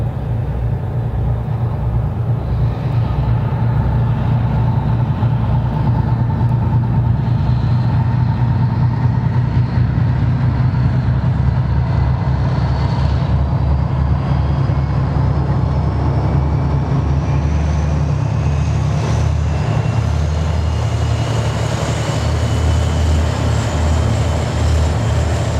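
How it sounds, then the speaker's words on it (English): A TE-10M diesel locomotive, a three-section version rated at 3,000 horsepower per section, running after a cold start, with a loud, steady, low engine drone and throbbing rumble throughout. "This video shows an example of the operation of diesel locomotive TE-10M."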